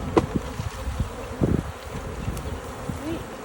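A swarm of honeybees buzzes in a dense, steady hum close by, with scattered thumps and handling knocks over it.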